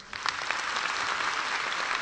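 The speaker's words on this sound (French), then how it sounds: "il faut applaudir pour eux." An audience applauds in a steady, dense wash of clapping that builds quickly and holds at an even level for about two seconds, with no voices standing out.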